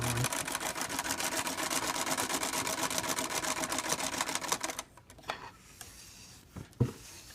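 A Singer 306 sewing machine runs a satin stitch, a fast even clatter of needle strokes for about five seconds before stopping, followed by quieter handling clicks and a sharp knock.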